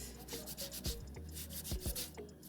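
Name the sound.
scrubbing dirty yam clean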